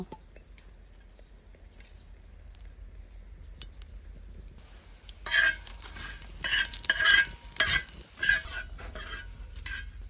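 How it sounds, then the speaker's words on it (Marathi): Garam masala roasting in oil in a pan: near-silence at first, then a burst of close scraping and stirring strokes over a light sizzle in the second half. "थंडा मसाला गरम मसाला भुजून घेतो तेल टाकतो"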